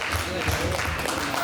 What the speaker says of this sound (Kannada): ಎಲ್ಲರ ಚಪ್ಪಾಳೆ ಇರಲಿ